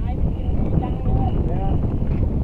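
Strong wind buffets the microphone on a boat out shrimp fishing, a continuous loud low roar with faint tones over it.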